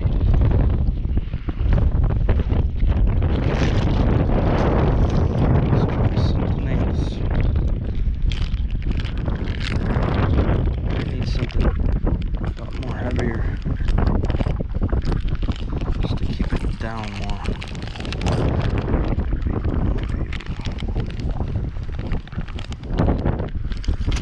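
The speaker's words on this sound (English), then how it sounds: "It's super windy. Super, super, super windy." Strong wind buffets the microphone with loud, constant rumbling roar throughout, gusting in waves without letup.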